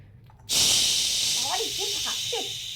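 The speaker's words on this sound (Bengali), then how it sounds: "পেঁয়াজ কলি এমনি ভাজা হবে" A sudden loud sizzle bursts in as onion stalks hit hot oil, then keeps hissing steadily while a voice speaks briefly underneath.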